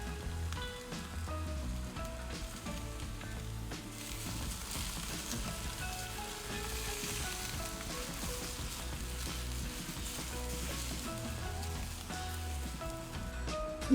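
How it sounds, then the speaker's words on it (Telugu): Marinated chicken hits a pan of lightly fried ginger garlic paste and sizzles in a dense, steady frying hiss that runs continuously and fairly close, with no talking. "ఇప్పుడు మ్యారినేట్ చేసుకున్న చికెన్ వేసేయాలి."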